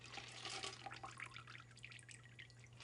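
Last splash of a bacon-flavored cocktail poured from a shaker, a thin trickle with scattered drips over a steady low hum, fairly faint and with no talking.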